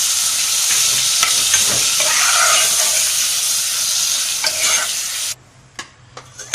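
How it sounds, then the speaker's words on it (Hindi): Chicken with garlic ginger paste fries in hot cooking oil, a loud, steady close-up sizzle and hiss with stirring scrapes, which drops away near the end to a few soft clinks. "अब इसमें हम ये अपने चिकन डालेंगे। लहसुन अदरक का पेस्ट डालेंगे।"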